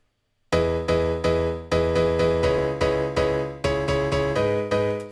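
Loud, dry piano chords are struck one after another in a steady pulse, each cutting off cleanly with no echo or room sound.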